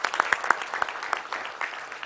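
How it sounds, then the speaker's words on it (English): Audience at a property summit clapping for an architecture graduate, a sparse, moderate round of applause with distinct individual claps standing out over a soft background. "Let's give her a round of applause for that, actually"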